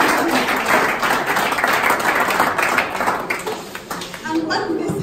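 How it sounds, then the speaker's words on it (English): A round of applause from an audience at a peace and reconciliation event, a broad sustained patter of many hands clapping, fairly loud and continuous, tapering slightly at the end. "I think they all deserve a round of applause"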